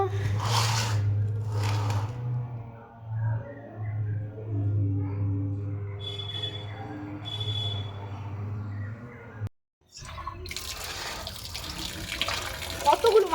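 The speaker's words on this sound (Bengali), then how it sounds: "চিকেনগুলোকে এখন ধুয়ে নেবো" Tap water runs steadily over raw chicken pieces being washed in a kitchen, splashing louder toward the end, with a low hum and people talking over the first part.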